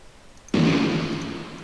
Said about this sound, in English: We've got a couple different explosions.